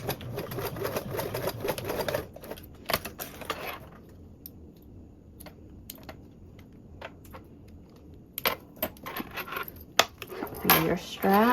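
A sewing machine stitches across a duffle bag strap in quick mechanical bursts, with a dense run at the start, a quieter stretch of scattered clicks, then another busy burst near the end. The sound is close and moderately quiet.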